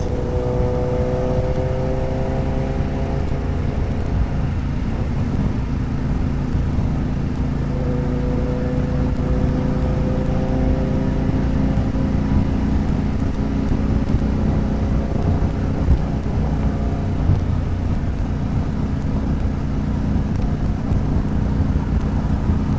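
Harley-Davidson Pan America 1250 motorcycle riding through traffic, a steady engine drone with shifting tonal whine, heavy wind buffeting the microphone throughout, no talk.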